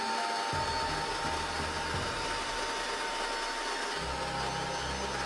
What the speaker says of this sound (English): I'm just going to give it another blast with the heat tool.